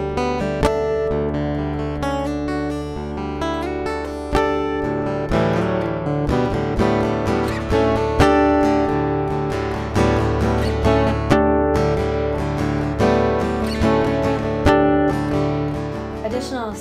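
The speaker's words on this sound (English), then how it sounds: "what you're hearing now is the Fishman system direct into my audio interface with some added reverb." A Breedlove acoustic guitar, played through its Fishman pickup direct into an audio interface with added reverb, plays a fingerpicked melody. The plucked notes ring out clear and close throughout, with no talking.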